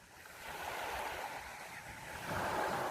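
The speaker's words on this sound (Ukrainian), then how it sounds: "Тут типа, ну от відчувається від моря вітерець, хвилі." Sea waves wash steadily onto a beach in Basilicata, Italy, with a breeze brushing the microphone; a continuous soft roar that swells toward the end, with no talking.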